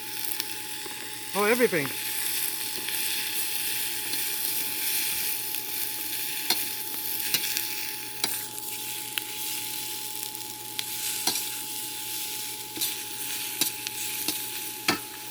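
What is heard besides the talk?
stir-frying zucchini and mushroom with tofu in a pan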